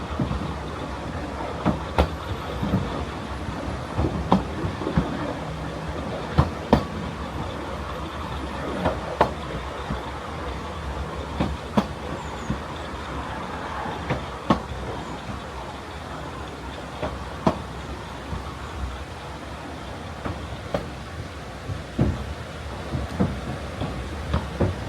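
Train running along a railway line in Wales, a steady rumble with repeated sharp clicks and clacks from the wheels passing over rail joints, heard from inside the carriage with no talk.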